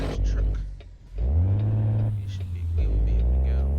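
A heavy truck rumbles past in American Truck Simulator, a deep engine drone swelling up and holding loud with a shifting pitch before easing off, with talk heard before it.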